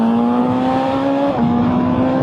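BMW M 1000 XR sports motorcycle, a 2025 model, pulling out to overtake a car on the road, its engine note a steady loud drone that climbs slightly in pitch with no speech over it.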